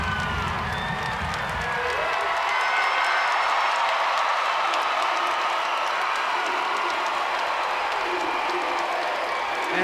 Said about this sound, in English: Now the senior, justly deserved, gets the biggest ovation of the day from this Stegman crowd for this final routine